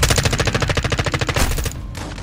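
Rapid automatic gunfire from the Call of Duty: Modern Warfare 2 video game, a loud, close burst of about twenty evenly spaced shots that stops abruptly near the end.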